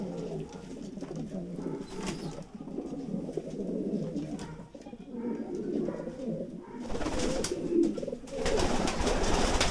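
Lahore pigeons coo steadily at a pet market, a continuous low, rolling cooing from several birds nearby, joined later by brighter rustling and noise.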